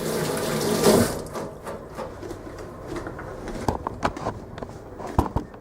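Tap water runs briefly over fingers being rinsed at a kitchen sink while making spaghetti sauce, a short splashy gush that fades into soft drips and light clatter.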